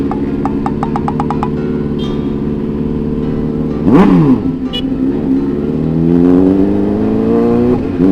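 A car engine idles with a steady rumble, then revs sharply once, drops back, and climbs again into a long, rising rev. Nearby and loud, in rainy weather.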